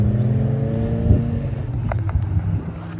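A Honda S2000's engine revs and pulls away, its low hum rising briefly and then fading as it accelerates off.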